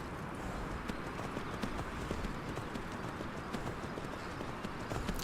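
Horse hooves clip-clopping on a road in the Skyrim video game, a steady brisk rhythm of hoofbeats at moderate distance over a soft background bed, with no talking.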